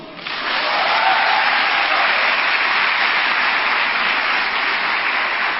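Sustained applause from a church congregation during a sermon, steady and fairly loud throughout, a thick even wash of many hands clapping with no pauses.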